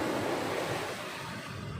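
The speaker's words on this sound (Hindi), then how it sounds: "देखिए ये लहरें मेरी तरफ तेज़ी से आती हुई" Strong waves rush up a beach toward the shore in a broad, loud, steady roar of surf with wind mixed in, easing slightly as the wash pulls back.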